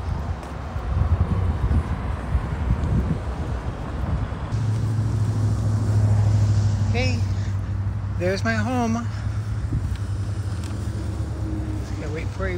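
Cars pass along a street one after another, a low steady roar of traffic under wind noise while a person talks nearby.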